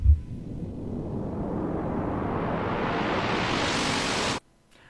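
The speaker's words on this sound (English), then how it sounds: "I doubled it, and then I put the copy an octave lower." Steady synthesized noise, dark and rumbling with a filter gradually opening to brighter hiss, layered with a lower-octave copy, ending in a sudden cutoff.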